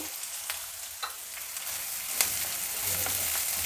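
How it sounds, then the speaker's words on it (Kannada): Onions and curry leaves fry in a pan with a steady, fairly quiet sizzle, broken by occasional sharp spatters and scrapes of stirring. "ಈರುಳ್ಳಿನೆಲ್ಲ ಚೆನ್ನಾಗಿ ಫ್ರೈ ಮಾಡಬೇಕೀಗ"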